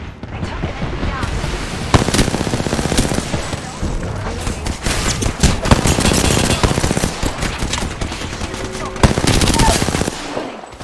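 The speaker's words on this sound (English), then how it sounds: "Getting shot at." Rapid automatic gunfire in an Apex Legends match, dense bursts of loud shots rattling continuously with a few sharper cracks throughout.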